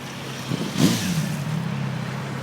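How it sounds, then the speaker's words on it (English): A vehicle rolls past on a downtown street in St. Thomas, a single car swelling briefly and fading, with a steady engine hum in the background. "Get the traffic rolling by."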